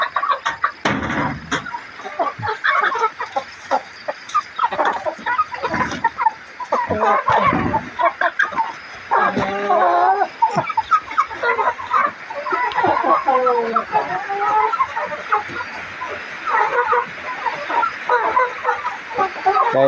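Chickens cluck and squawk in repeated bursts, fairly close by, sometimes overlapping, with quiet gaps in between and a voice talking at times.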